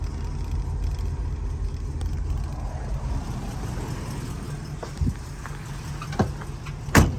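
A 1968 Shelby GT350 with a four-speed, factory-style exhaust, two resonators and a transverse muffler turns over and settles into a steady, low idle, close by with no talking and a few small knocks near the end.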